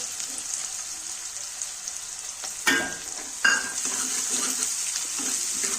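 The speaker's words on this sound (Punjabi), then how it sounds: "ਪਿਆਜ਼ ਨੇ ਜਿਹੜੇ ਉਹ ਪਾ ਲੈਣੇ ਨੇ ਆਪਾਂ ਇਹਨਾਂ ਨੂੰ ਚੰਗੀ ਤਰ੍ਹਾਂ ਭੁੰਨ ਲਵਾਂਗੇ" Onions sizzling as they fry in a pan, a steady hiss with two sharp clanks of a utensil against the pan partway through, no talking.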